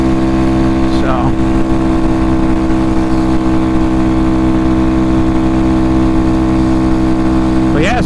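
A Honda Grom motorcycle engine runs at full throttle at around 61 mph, a loud, steady droning whine with strong wind rush, sustained without pause while a rider talks over it.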